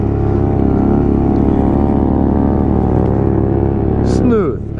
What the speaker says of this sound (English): That's a Z2. That's a Kawasaki, not a Honda.